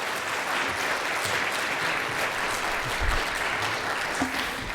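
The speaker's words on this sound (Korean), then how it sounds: "우리 박수로 다시 한번 환영합시다" A church congregation claps continuously during a Sunday service, a full, even round of applause that holds steady throughout.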